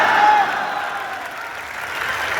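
Crowd applause at a Hindi poetry recital in Patna, a broad burst of clapping that peaks at the start and then settles into a softer, steady patter.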